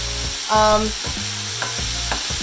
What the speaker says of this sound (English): While we're sauteing this